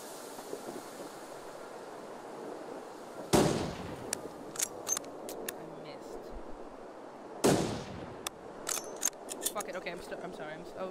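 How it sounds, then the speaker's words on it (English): Two loud rifle shots in the video game The Long Dark, a few seconds apart, each a sharp crack followed by a rolling echo that fades under faint background noise. "I'm gonna stop shooting."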